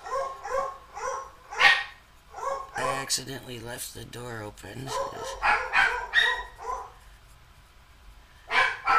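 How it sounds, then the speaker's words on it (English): Several dogs barking indoors, a mix of sharp barks, yips and a rapid run of high yelping in the middle, loud and close at times, with someone talking over and between them. "I don't know why the dogs are barking."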